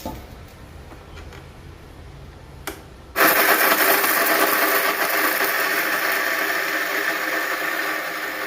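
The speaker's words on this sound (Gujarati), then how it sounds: "સાયણીમાં જે વધે એને પાછું મિક્સરમાં નાખી દેવાનું અને ભૂકો કરી દેવાનો પાછો" After a quiet stretch with a brief clatter, an electric mixer grinder kicks in abruptly and runs loud and steady, whirring as it grinds leftover sieved churma mixture into fine powder for jaggery churma ladoos.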